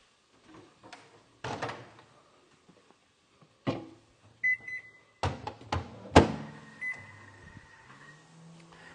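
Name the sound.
microwave oven door and beeps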